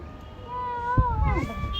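A Persian cat meows once, a drawn-out rising and falling call up close, followed by a second shorter meow, with some faint background noise.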